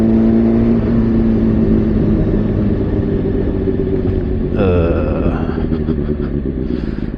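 A sport bike's engine drones steadily while riding, a loud low rumble with a tonal whine that shifts briefly partway through as the revs change, heard close under steady wind noise, no talking.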